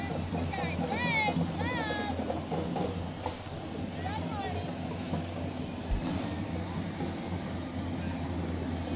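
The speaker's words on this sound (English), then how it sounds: "A lot of vintage tractors on its way" Vintage tractors drive past in the 2017 Morton Pumpkin Festival parade, their engines a steady low rumble over outdoor crowd noise, with scattered voices and chirps in the mix.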